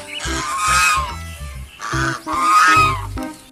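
A few loud, harsh honks in two bursts, close by, like a goose calling, with short pauses between.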